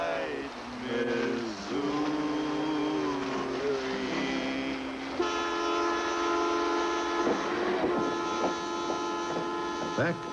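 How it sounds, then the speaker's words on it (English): A transcontinental passenger train runs along the main line to Montreal in Canada, giving a steady droning rumble with sustained horn-like tones that shift partway through. "the transcontinental train to Montreal that was part of the Canadian Railway legend"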